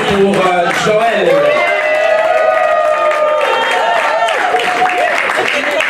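An audience at a couples gala in Le Mans applauds loudly and steadily, with cheers, whoops and crowd voices mixed into the sustained clapping.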